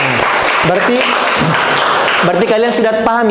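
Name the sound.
applause from students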